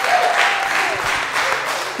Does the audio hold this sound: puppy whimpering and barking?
no